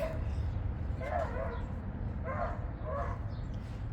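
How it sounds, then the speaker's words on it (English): Several short bursts of dog barking and yipping at a distance, spaced irregularly over a low outdoor rumble. "Sorry about the dogs, I am outside."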